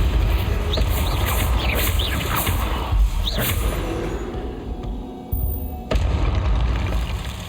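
Confringo explosion spell in a Harry Potter video game, a burst of boom and crackle with whooshing spell effects over a dense game soundtrack, followed by a brief drop and a sharp return of sound.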